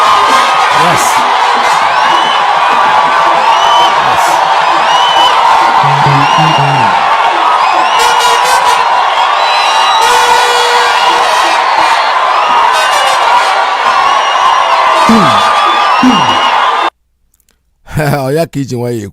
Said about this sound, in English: The crowd went ecstatic.